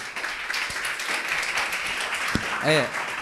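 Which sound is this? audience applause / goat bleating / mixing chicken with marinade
audience applause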